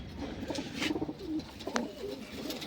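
Soft cooing and chirps of pigeons and pigeon chicks mixed with low background rustle, several short calls close by with no talking.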